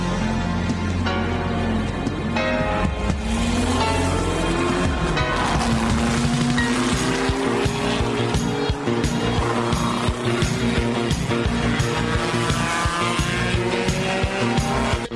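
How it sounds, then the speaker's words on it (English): Race car engines roar loudly and continuously, with rising and falling engine pitch as the cars rev and run, dense and close with no pause. "Gentlemen, start your engine."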